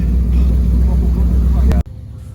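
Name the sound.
swamp buggy engine during an Everglades ride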